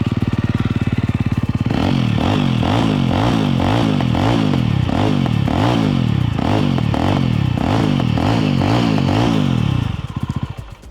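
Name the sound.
2024 Jawa 350 motorcycle twin exhaust note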